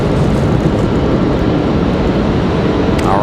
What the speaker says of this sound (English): American 174 Heavy lining up. Enjoy all of the 777 sounds.